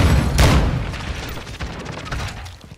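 Gunfire in Call of Duty: Modern Warfare II, loud bursts early on, then further shots and game noise fading over a few seconds, with no talk.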